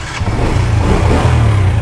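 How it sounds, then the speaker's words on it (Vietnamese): A 2012 Honda Wave 100 motorbike with its original engine, started and running close by, a loud low putter of a small four-stroke idling briefly. "Đấy máy nổ rồi"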